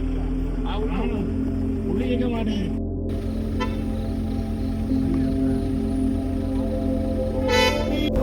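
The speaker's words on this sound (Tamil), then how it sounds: "பின்னாடி இருந்து எல்லா வண்டிக்காரனும் ஹார்ன் அடிக்க ஆரம்பிச்சிட்டாங்க" Vehicles honking behind on a forest road between Bandipur and Masinagudi in the Nilgiris, several horn toots sounding over a steady engine hum and rumble, with a person talking throughout.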